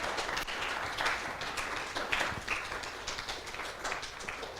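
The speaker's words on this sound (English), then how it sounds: "So we give round of applause to our Dvivida, Balram and Balram's friend." An audience claps together in a round of applause, a dense, steady patter of many hands sustained at even loudness without pause.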